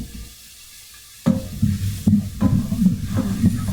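Diced onion drops into a hot frying pan after a quiet start and begins to sizzle. Scraping and stirring sounds come through a steady crackling hiss, close by and moderately loud.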